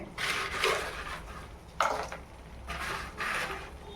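Cauliflower florets for crispy gobi 65 being stirred through batter in a pan, heard as a few scraping, clattering bursts of spoon against metal, close and moderately loud with short pauses between strokes.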